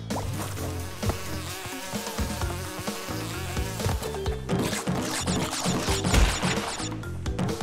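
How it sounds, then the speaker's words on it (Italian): Wasps buzzing in the video game Crash Bandicoot 2: a continuous insect drone mixed into busy game music and effects, loud and steady throughout. "Troppo veloci però l'hanno fatte queste cazzo di vespe."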